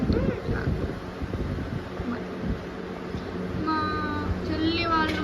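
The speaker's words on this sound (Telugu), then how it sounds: "చూడండి గాలి వస్తుంది బయట చల్లగా డ్యాన్స్ చేస్తుంది" Wind blows outside under a cloudy evening sky, buffeting the microphone in a steady rumble while faint birdsong and other background sounds come through.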